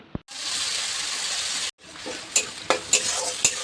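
Cinnamon and cardamom hit a hot pan with an immediate loud, steady sizzle that runs for several seconds, broken by a few sharp clinks of stirring.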